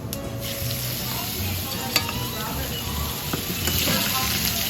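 Food frying in cooking oil in a pan, a close, continuous sizzle with a few sharp pops and clicks and a low hum beneath it.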